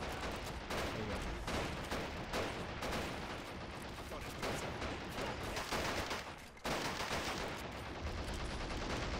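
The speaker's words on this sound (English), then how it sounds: "This machine gun is just ripping." Machine gun fire in the war video game Men of War: Assault Squad 2 during a Pacific campaign battle in Borneo, dense continuous bursts of rapid shots mixed with other gunfire, loud and sustained with a brief pause.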